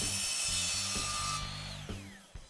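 A power saw cuts through 5-foot lengths of steel scaffolding pipe, a loud sustained high-pitched whine and grind that fades as the blade spins down, followed by two sharp clanks of metal pieces.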